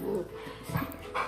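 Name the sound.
dog whimpering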